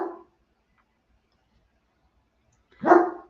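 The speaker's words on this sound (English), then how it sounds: "I'm just gonna buzz him every time he barks." A single dog bark rings out fairly close and loud near the end, preceded by a brief clipped bark or whimper at the start, with silence between.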